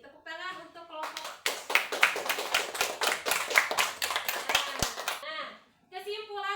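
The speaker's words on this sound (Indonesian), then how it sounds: "Tepuk tangan untuk kelompok." Classroom of children claps together for a group, a burst of dense hand claps about four seconds long, close and loud, with a teacher's voice speaking before and after.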